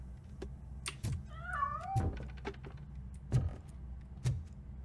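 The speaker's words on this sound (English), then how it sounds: "Ну, где этот котейка? Кис, кис, кис." A cat meows in the Robocop Rogue City video game, one clear warbling meow near the start amid sharp clicks and thuds, with no talk.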